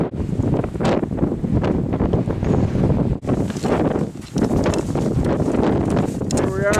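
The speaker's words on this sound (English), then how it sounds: "It's kind of windy" Strong wind roars steadily across the snowy summit of Mount Bierstadt in Colorado, buffeting the microphone almost without pause, with a brief lull partway through.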